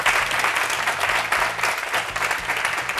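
Young audience applauding on a youth television programme, a steady dense wash of clapping filling the space, with faint background music underneath.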